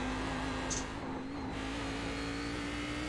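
A race car in the iRacing sim at Belle Isle holds a steady, loud engine drone, with a brief dip as the throttle is released before the note carries on evenly.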